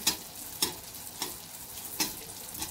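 Anarsa fries in hot oil or ghee with a soft, steady sizzle, broken by a few sharp crackling pops at roughly regular intervals.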